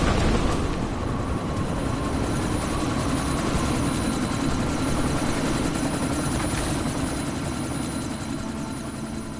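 A helicopter in the video game Deus Ex: Mankind Divided, heard during a sandstorm as a steady, loud rotor and engine roar that stays close and continuous throughout with no talking.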